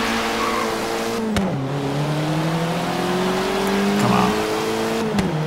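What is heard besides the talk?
Fiat 500 car engine racing in video game Forza Horizon 3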